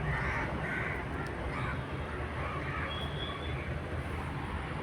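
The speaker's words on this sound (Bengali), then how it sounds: "কাক দেখো, কাক আসছে।" Crows caw repeatedly, a string of harsh calls rising over a constant noisy outdoor hum. The calls sound fairly near, and no one speaks.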